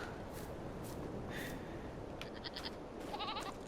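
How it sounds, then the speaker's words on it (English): Sheep and goats in a Farming Simulator 22 farm pen bleat several times, scattered short calls over a constant low background hum, fairly faint overall. "Sheepies and goats."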